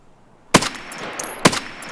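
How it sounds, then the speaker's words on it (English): Gunfire in Escape From Tarkov, two loud, sharp rifle shots about a second apart, each with a short echoing tail and faint clinks between. "he's shooting"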